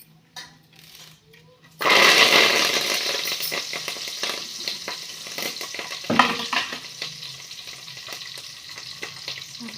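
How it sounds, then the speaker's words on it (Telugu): Cumin seeds and curry leaves hit hot oil for a tempering, bursting into a loud, steady sizzle with crackling pops that stays up close and slowly settles. "మళ్ళీ కొంచెం ఆయిల్ పోసుకొని ఇందులో జీలకర్ర వేసిన"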